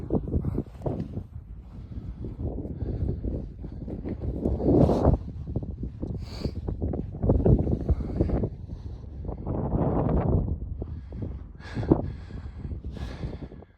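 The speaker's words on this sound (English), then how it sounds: "It's probably really windy again." Strong wind on a cold winter hillside along Offa's Dyke buffets the microphone in gusty, rumbling waves that rise and fall throughout, with no other clear sounds.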